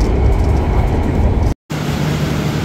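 Ambarawa Ekspres passenger train running, heard as a steady loud rumble and rattle of the moving carriage, broken by a brief silent cut before the low rolling noise resumes.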